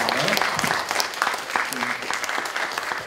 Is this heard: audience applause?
yes